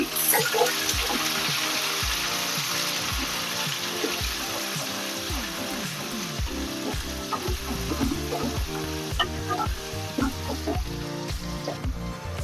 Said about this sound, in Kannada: ಈರುಳ್ಳಿ ಹಾಕ್ಕೊಂಡು 1 ನಿಮಿಷ ಫ್ರೈ ಮಾಡ್ಕೊಳ್ಳೋಣ.